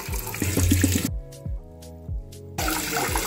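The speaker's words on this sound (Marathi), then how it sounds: "पुन्हा स्वच्छ पाण्याने धुवून घ्यायचे।" Rice that has soaked for a night and a day is rinsed with clean water for Marathi rice chakli. Splashing running water is heard at the start and end, with quieter handling noises between.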